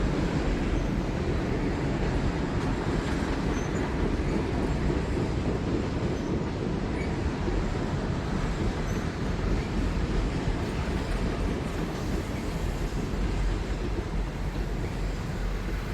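A T1 steam locomotive hauls a 25-car train up over a mountain, a continuous loud rumble and chuffing roar close by, with no break.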